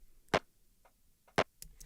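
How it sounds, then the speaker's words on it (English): A short, snappy clap sample run through a frequency shifter, heard as two sharp, dry hits about a second apart with fainter shifted ticks between them, quiet and alone. "Really short and snappy clap, and I'm going to put some effects on it."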